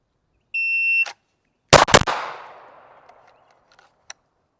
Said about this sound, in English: Don't mind that beep.